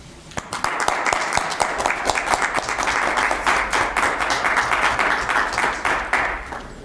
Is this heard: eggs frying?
no